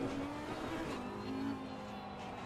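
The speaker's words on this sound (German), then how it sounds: "Faster car is approaching." In Assetto Corsa Competizione, during a 12-hour race at the Nürburgring, a race car's engine drones loud and close, its pitch wavering slightly as it approaches and rises, with no voices over it.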